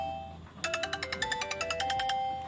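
A phone ringtone plays through a small phone speaker as a rapid series of bright, evenly spaced chiming notes, moderately loud and tinny, with no talk over it.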